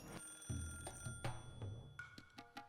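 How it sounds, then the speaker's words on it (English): Telephone ringing in the Higurashi When They Cry visual novel game, a game-style ring tone sounding in a few short repeated bursts, fairly close and clear with no talking. "As soon as I put the phone down, it rang again."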